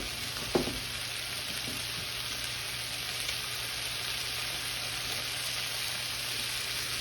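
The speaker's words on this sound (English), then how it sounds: "I'm gonna sear this off a little bit at a time." Beef searing a little at a time in a stir-fry pan beside cooked vegetables, a loud, steady hissing sizzle from start to finish with a brief clatter early on and no speech.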